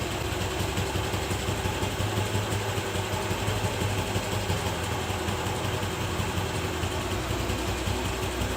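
TVS Jupiter scooter engine idling at its lowest RPM during carburetor tuning, a steady close-up putter with an even low throb and no voices.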